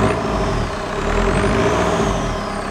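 A VW TDI CJAA diesel engine runs on a shop floor with no coolant, a steady, loud mechanical drone that holds throughout and swells slightly as the throttle pedal is worked, with no talk over it.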